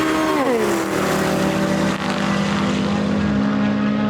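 V8 cars, including a Dodge Demon and a Mustang, roar continuously through a video game drag race, engines droning loud and close as pitch climbs and shifts between gears.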